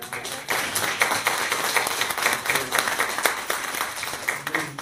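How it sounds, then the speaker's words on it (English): A crowd applauds steadily, dense clapping that stays loud and even throughout with no voices on top. "Can we clap?"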